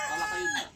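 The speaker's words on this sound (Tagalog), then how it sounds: "Yung mga manok ni kuya oh" A rooster crows briefly, close and somewhat faint, its voice rising and then dropping, with a little clucking from the other chickens around it.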